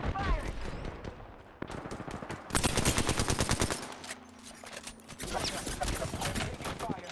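Gunfire in a first-person shooter video game, rapid automatic bursts alternating with brief pauses and single shots, loud and close, with some game sounds and faint voices mixed in.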